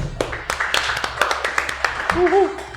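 Applause for a guest on a podcast sounds as a short, uneven round of clapping from a few people, sharp claps over a couple of seconds, with a voice speaking near the end.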